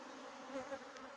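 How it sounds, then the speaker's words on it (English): Honey bees buzzing as they feed, a soft steady insect drone that stays faint throughout with a couple of slightly louder swells. "Look at them bees now, boy. They lick up everything."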